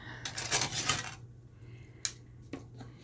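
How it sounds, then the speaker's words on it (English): Small scissors snip a little square out of magazine paper, giving about a second of close, crisp rustling cuts followed by two isolated sharp clicks. "just want to cut out this little square here."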